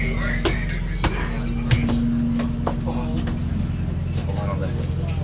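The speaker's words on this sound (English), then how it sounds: "we're on the bus" Inside a moving bus on a rainy day, a steady low engine drone and road rumble fill the cabin, with occasional knocks and rattles.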